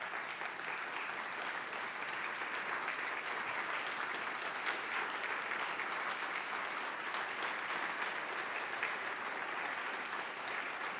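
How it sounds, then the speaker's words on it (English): An audience gives a round of applause at a lecture hall talk on Greensboro, North Carolina, a broad, even wash of many hands clapping that holds steady throughout without speech. "I would like to invite them to stand and invite you to give them a round of applause."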